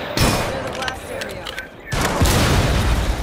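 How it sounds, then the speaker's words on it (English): Shotgun blasts in the tactical shooter Rainbow Six Siege, two heavy booming reports with a clattering scuffle between them, loud and close. "I shot him with a shotgun, and it didn't even register."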